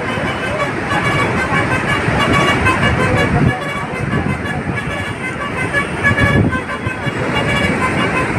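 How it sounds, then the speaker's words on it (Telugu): Heavy road traffic on a busy route, a jam stretching several kilometres, heard from a motorbike: a steady dense roar of engines with car horns honking, and voices under it. "ఫుల్ ట్రాఫిక్, ఒక 3-4 కిలోమీటర్స్ ట్రాఫిక్ ఉంది ఫుల్గా."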